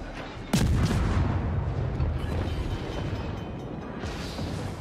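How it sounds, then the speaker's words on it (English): The guns of the destroyer Wickes fire in World of Warships, a sudden loud booming salvo with a sharp attack, then a rumbling decay and lingering battle noise. "Right, fire the guns."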